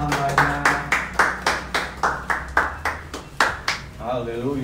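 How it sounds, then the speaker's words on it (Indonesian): Church congregation clapping at an Easter service, a dozen or so evenly spaced, fairly close claps in a steady rhythm, followed by a voice speaking at the end. "Beri tepuk tangan buat hambanya."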